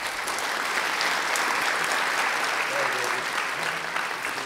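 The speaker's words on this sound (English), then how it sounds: "I'd like again a good round of applause for the our speakers." An audience at the end of a day of conference sessions gives a steady round of applause, dense continuous clapping filling the room at moderate volume without a pause.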